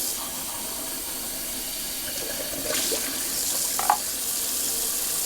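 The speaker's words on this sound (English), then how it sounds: "Alright, doing a little cold water rinse." Cold water runs steadily from a tap for a rinse, a continuous close hiss and splash that swells slightly partway through, with no talking.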